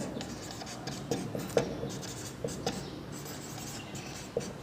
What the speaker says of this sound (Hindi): तो लिखेंगे 5 संख्याओं का कुल औसत